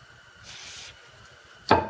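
Carburetor cleaner sprayed onto a cookie tin being cleaned of flux before soldering, for a hit-and-miss engine gas tank: one short, close hiss of spray, followed after a pause by a sharp knock as the tin or can is handled.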